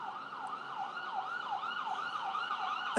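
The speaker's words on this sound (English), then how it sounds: "You heard that siren?" An emergency vehicle siren wails in a steady up-and-down cycle, fairly distant and sustained, with a short bump of handling noise at the very end.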